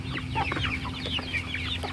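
Chickens cluck and chirp steadily in a small farm coop, with overlapping calls at close range over a constant background hum. No one speaks.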